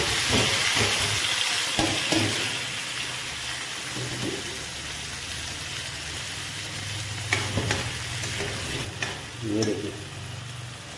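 Onions sizzle and hiss steadily in a hot pan of pork curry, with scraping stir strokes and occasional utensil clinks close by, a brief word spoken near the start.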